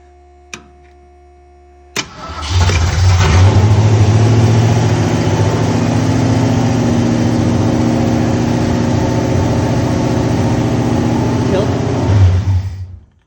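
A 1968 Ford Mustang engine cranking and catching when started through the solenoid, a sudden start followed by a loud steady idle that cuts off abruptly at the end, with a brief click beforehand.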